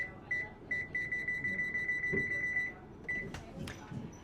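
A kitchen timer's high electronic beeping repeats rapidly in a steady string, then stops; a few quieter clicks and handling noises follow.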